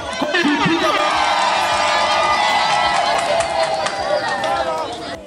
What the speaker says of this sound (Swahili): tunashangilia na tunapiga makofi mengi sana